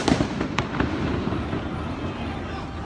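A police flashbang goes off during a night street protest in Dallas, a sharp crack early on followed by a few more distant pops over a rumbling, noisy crowd background.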